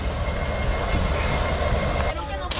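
Freight train rolling along a Mexican railway line, a loud, continuous rumble and clatter of wagons close by, with a metallic squeal rising near the end.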